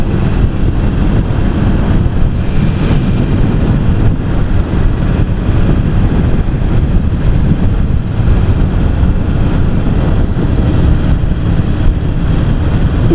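Steady, dense roar of a Harley-Davidson XL883C (883 Sportster) on the road, wind rush and engine drone blended together without change for the whole stretch, no voices.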